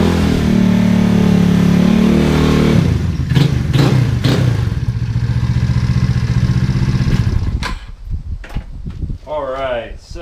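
A Honda Ruckus scooter recovered after theft, with a loose rear wheel, rides off with a loud, steady engine drone that holds for several seconds, then fades into quieter clatter and ambient noise.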